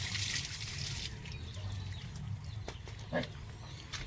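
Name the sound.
water flowing from hand pump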